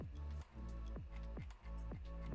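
Short electronic drum hits from the drop of a produced track, a punchy kick-like thump with tonal ring, repeating about every half second in a steady loud groove.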